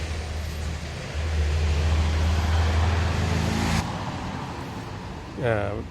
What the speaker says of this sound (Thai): เวลามาถ่ายหน้าบ้านก็จะมีเสียงรถยนต์เพราะมันเป็น ติดถนนรถค่อนข้างเยอะนะครับ